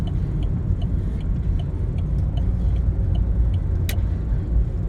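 Steady car engine and road rumble from inside a vehicle moving through Friday evening rush-hour traffic, a continuous low drone with faint ticking, no talking.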